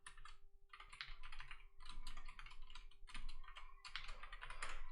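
Rapid, continuous typing of code on a computer keyboard, with dense clattering keystrokes in bursts and brief pauses, close and fairly quiet over a steady low electrical hum.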